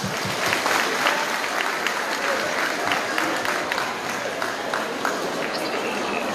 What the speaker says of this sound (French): Et applaudissez-vous et merci encore.